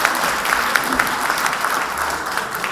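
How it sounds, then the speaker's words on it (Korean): An audience at a lecture for local council members breaks into loud, sustained applause to welcome a speaker to the stage, a dense steady clapping that fills the room with no voices over it. "박수로 맞아주십시오."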